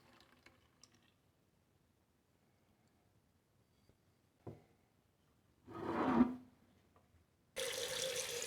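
A quiet stretch with small clicks, then a swelling rush of running hot water, followed by a steady broadband stream of water pouring into a large pan.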